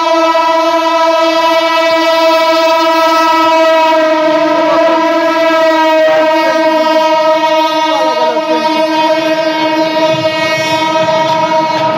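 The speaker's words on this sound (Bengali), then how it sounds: "এবং ট্রেন কিন্তু যাচ্ছে" A train passes close by during a tense street protest near Titumir College, its horn blaring loud and steady for the whole stretch over the rumble and clatter of the cars, with no voices heard.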